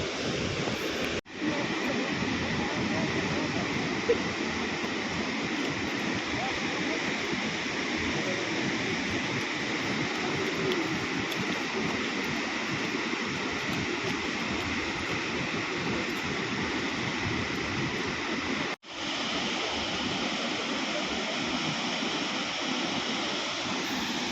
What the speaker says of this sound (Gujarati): આ નદી હાલી જાય છે ધબ ધબાટી